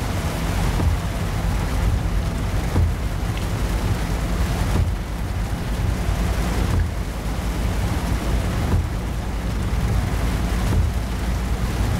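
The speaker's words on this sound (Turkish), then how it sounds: "Yağmur başladı." Steady rain pours in Euro Truck Simulator 2, a dense continuous hiss of drops drumming on the truck with a low rumbling undertone, unbroken and fairly loud.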